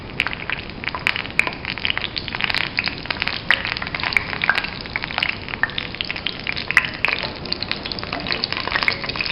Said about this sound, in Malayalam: വെളിച്ചെണ്ണ നന്നായി ചൂടാവട്ടെ. അതിലേക്ക് വേപ്പില കുറച്ചിടുക.